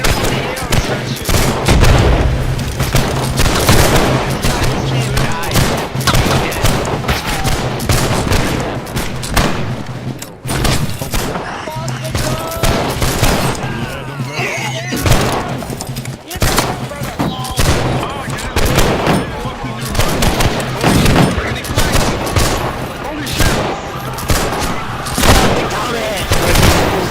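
Dense, continuous gunfire and battle noise from the dueling video game Hellish Quart, played at a Christmas Eve tournament game night, running loud throughout with people talking over it.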